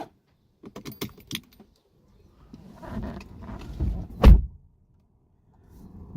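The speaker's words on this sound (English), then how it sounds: "The steering wheel lowers, that's part of the easy entry experience" In a 2012 Mercedes C180 Coupe, the steering wheel motor hums briefly as the column lowers for easy entry, preceded by key and clicking sounds and ending with a soft thunk.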